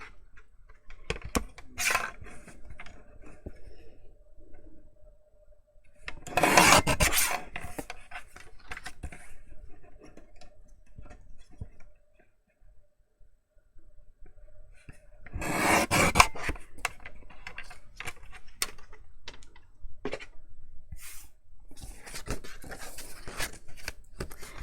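Scissors snipping paper tabs off album pages for a disc-bound medium album, two louder bursts of cutting and rasping amid quieter handling rustles, close up with no talk.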